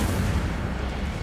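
A fire spell cast in Hogwarts Legacy, heard as a steady, loud rumbling whoosh of flame that holds evenly through the short moment with no voices over it.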